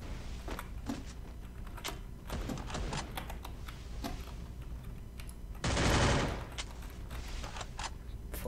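Scattered sharp SKS rifle cracks in a Counter-Strike ranked match, single shots spaced irregularly, with a louder burst of noise near the middle, moderately quiet overall.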